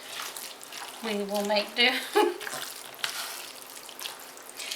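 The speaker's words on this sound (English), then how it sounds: "We're gonna mix this all around" Milk being stirred into a casserole mixture with a flimsy spoon, giving soft wet scraping and sloshing sounds under a person talking briefly.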